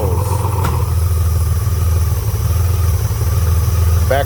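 A Honda Goldwing GL1500 engine idles steadily and loudly up close, a dense low rumble with a rapid clattering pulse, while a leaking vacuum hose is held covered.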